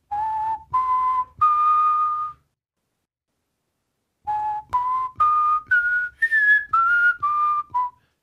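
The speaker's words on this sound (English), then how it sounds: "you call it a fully diminished arpeggium" A fully diminished arpeggio in clear, whistle-like pure tones, three rising notes, a pause, then a longer run of steps climbing and falling back, with no voices.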